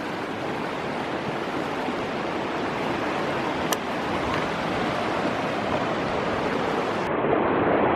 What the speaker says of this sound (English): Beautiful water here flowing in the canyon.